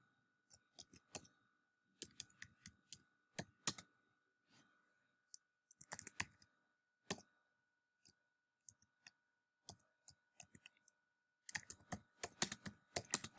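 Typing on a computer keyboard in short bursts of crisp key clicks separated by silent pauses, close and fairly quiet, with a faint steady hum underneath.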